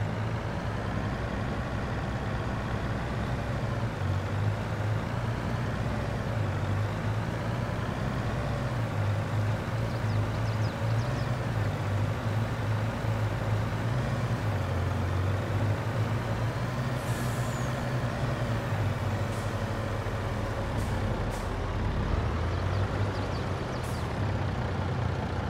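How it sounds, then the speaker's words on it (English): A truck in the Farming Simulator 22 game rumbles with a steady low engine drone throughout, and short hissing bursts of air brakes come near the end. "Look, there's the truck."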